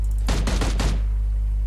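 Four rapid M16A4 rifle shots in PUBG Mobile ring out close and loud in a tight burst over a steady low background hum, then stop abruptly.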